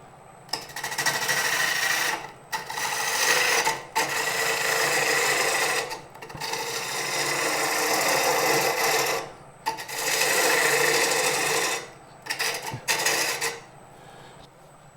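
A bowl gouge cuts a wooden bowl spinning on a lathe, giving a steady rasping, scraping drone in several long passes separated by short pauses.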